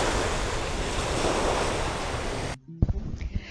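Ocean waves washing onto a beach on the Cape in Prince Edward Island, a loud continuous roar of surf and wind buffeting the microphone that suddenly drops away into quieter, closer scattered sounds.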